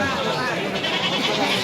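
Goats bleat close by at a large weekly goat market in northern Bangladesh, the calls mixed into dense crowd chatter and general market noise.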